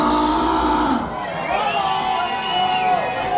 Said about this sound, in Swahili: Piga kelele kwa wanangu wa Simba